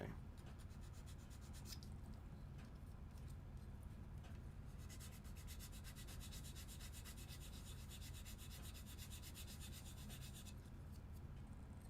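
A hand file rasps back and forth against a part in steady, continuous strokes, close and fairly quiet, with no talking.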